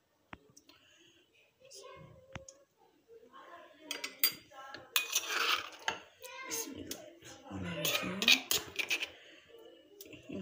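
A spoon stirs spices into eggless homemade mayonnaise in a bowl, giving soft scraping and clicking strokes close by, with faint whispery voices now and then.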